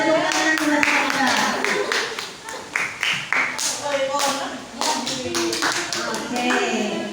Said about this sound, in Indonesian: beri tepuk tangan buat wanita